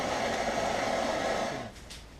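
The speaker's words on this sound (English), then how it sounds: "Apply heat with your favorite source of heat. I use the torch." A torch applying heat during installation of an electric condenser fan wiring on a 2000s Nissan Xterra gives a steady broadband roaring hiss, loud and continuous, that cuts off near the end leaving a quieter background.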